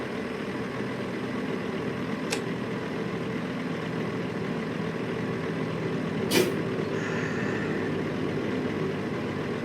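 A truck engine idles in American Truck Simulator, a steady low hum interrupted by two short hissing bursts like air brakes.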